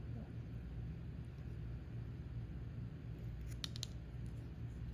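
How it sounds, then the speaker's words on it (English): A few quick, faint snips of scissors trim the little excess from a DIY microphone mod near the end, set against a steady low rumble and hiss. "just trimming off the little excess"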